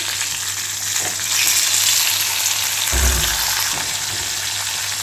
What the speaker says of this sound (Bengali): গোটা জিরে তেলের মধ্যে ফোড়ন দিলাম আর দিলাম তেজপাতা আর দুটো শুকনো লঙ্কা